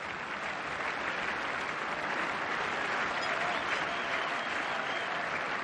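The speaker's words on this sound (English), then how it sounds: "The crowd come to life." Steady, dense applause from a large tennis crowd fills the whole stretch at a 1998 Roland Garros semifinal on clay, loud and unbroken with no talk over it.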